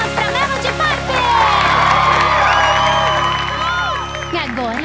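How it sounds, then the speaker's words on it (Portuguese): An animated cartoon crowd from Ever After High cheers, whoops and applauds. The sound is loud and continuous for several seconds, peaks in the middle, then eases slightly. "Uma salva de palmas pra Melody"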